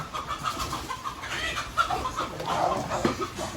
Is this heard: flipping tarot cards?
no